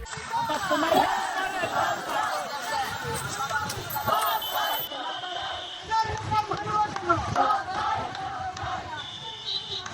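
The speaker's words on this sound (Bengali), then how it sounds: "ইনাদের কোম্পানির নাম বাটা দেখে ইনারা বাটা বাটা স্লোগান দিতেছে" A street crowd of Bata company workers chants a repeated protest slogan, with loud overlapping shouting voices and general hubbub close by throughout.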